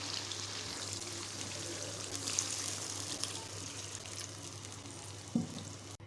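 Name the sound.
water poured into cooking chicken and tinda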